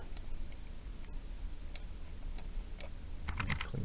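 Soft keyboard clicks from the bracket keys, pressed over and over during digital portrait painting, scattered quiet taps over a low background hiss that quicken toward the end.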